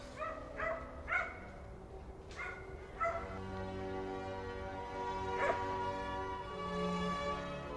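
Dogs bark and yip near a misty pond, a burst of sharp barks at the start, then a drawn-out whimpering howl that rises and wavers, heard from some distance over steady background noise.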